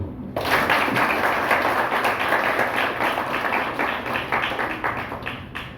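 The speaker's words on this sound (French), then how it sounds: "On applaudit." An audience at a union's thirtieth-anniversary celebration breaks into applause, a sudden burst of dense clapping that starts abruptly and carries on steadily, slowly thinning toward the end.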